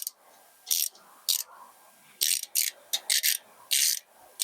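A ratchet tightens a bolt on a Honda Dominator NX 650 motorcycle. Short bursts of sharp clicking repeat in separate strokes, close by, with quiet pauses between them.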